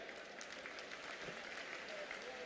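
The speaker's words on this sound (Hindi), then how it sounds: "सभी साथियों से कहूंगा ताली बजाकर उनका वेलकम करें" Applause from a crowd at an outdoor INLD political rally in Fatehabad, a steady dense wash of clapping held at an even level throughout with faint voices mixed in.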